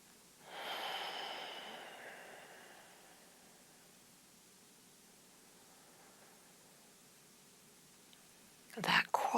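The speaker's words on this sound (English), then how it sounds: "Soft belly breathing." Soft belly breathing in a quiet yoga session: one long, breathy exhale early on fades into near-silence, followed by a brief rustle or breath at the very end.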